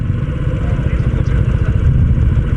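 A Yamaha PG-1 motorcycle engine churns loudly through deep mountain mud, a close, continuous rough drone with a rattling edge.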